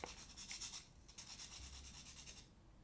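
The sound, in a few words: sanding a charcoal pencil tip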